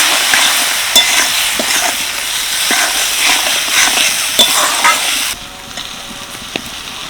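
Chopped tomato with Kashmiri chilli powder, salt, cumin and coriander powder sautés in a pan for an okra dish. A loud, steady sizzle carries occasional spatula scrapes and taps, then drops sharply quieter near the end.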